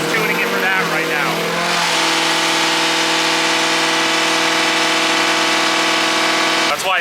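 An LS V8 swapped into a BMW E36, tuned with nitrous, drones steadily under heavy load on a load-bearing dyno, loud and sustained at one pitch, with a voice talking over the start.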